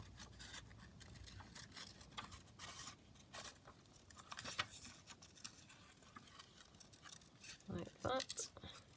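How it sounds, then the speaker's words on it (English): Scissors snip and rustle through paper as someone fussy cuts around a paper flower for a craft project. The small cuts and paper scrapes are close but fairly faint, with soft talk underneath. "So I'm just going to sort of fussy cut around that."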